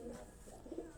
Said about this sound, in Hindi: ਮਿਕਸ ਜਿਹਾ ਕਬੂਤਰ ਹੈ ਬਸ।